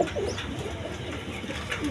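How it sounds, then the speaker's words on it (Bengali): A pair of Gorra pigeons cooing softly and repeatedly, low rounded calls rising and falling steadily at close range amid a mild background hum. "নিচে এক পেয়ার গররা কবুতর আছে"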